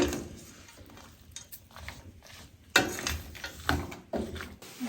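A spoon scrapes and knocks quietly in a pot as vegetables and spices are stirred while they cook on a wood-burning kitchen stove for a vegan whole-grain vegetable pilaf. Soft irregular scrapes and clinks, with a few louder knocks.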